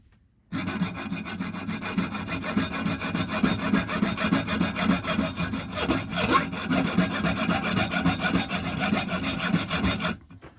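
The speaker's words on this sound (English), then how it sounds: "we'll just saw them off with a little axe saw" A small axe saw cuts pieces off armature material held in a vise, a steady rapid back-and-forth rasping that starts abruptly and runs loud and close for about ten seconds before stopping.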